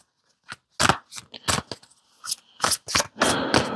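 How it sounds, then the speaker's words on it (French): Tarot cards being shuffled and drawn from a deck: a run of sharp papery snaps and rustles, close and fairly quiet, coming in irregular bursts with no voices. "On va tirer une autre carte ici."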